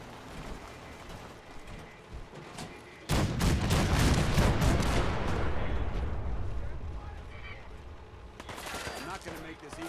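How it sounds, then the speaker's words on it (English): Cannons firing in the Fallout 4 video game, a sudden dense barrage of booms and rapid blasts that starts abruptly and rolls on, fading somewhat, with game voices and effects around it. "The cannons are ready. Fire at will."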